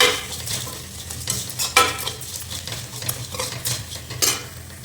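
Boiled potatoes being mashed in a pan for potato masala, with repeated scraping, stirring strokes and utensil knocks against the pan, fairly close and loud, with no talk.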